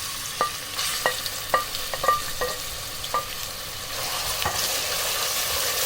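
Onions fry in hot cooking oil with a steady sizzle, while a spoon scrapes and stirs in several sharp, uneven clicks near the start.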